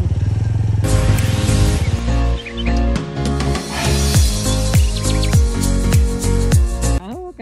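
Motorcycle engine on an extreme off-road mountain track near Gupha Pokhari, Sankhuwasabha, revving and labouring loudly and close, with repeated rising and falling throttle bursts and gear changes that run continuously for several seconds.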